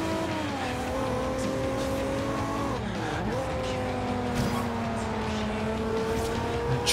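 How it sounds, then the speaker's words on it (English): A race car in the Forza Horizon 2 video game accelerating hard, its engine note climbing steadily, dipping briefly at a gear shift, then rising again, loud and continuous with faint tire noise. "Stay on the gas as soon as I enter the race."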